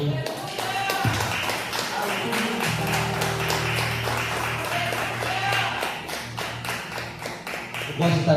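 A church congregation claps along in steady rhythm during an evening worship service, the repeated claps sitting over sustained music and singing voices throughout.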